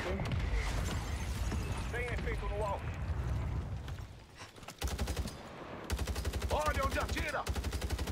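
Automatic gunfire bursts in the video game Warzone 3, rapid rattling volleys that grow denser and louder in the second half, with voices talking over the shooting throughout.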